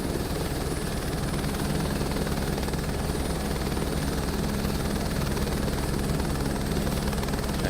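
Helicopter approaching a helipad in Microsoft Flight Simulator 2024, a continuous loud rotor and turbine drone with a steady whine, constant and unbroken with no talking.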